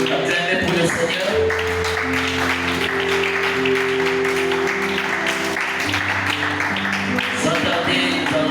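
A church congregation applauds for the Lord, a steady dense wash of clapping with music tones sustained underneath, loud and continuous throughout.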